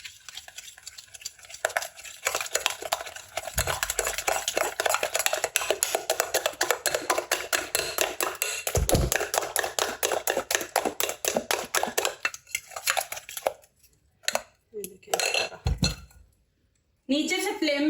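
Ingredients and salt are being stirred together in a bowl in a home kitchen, making steady scraping and clinking strokes that run almost continuously and then break off near the end, with talk and household noise behind.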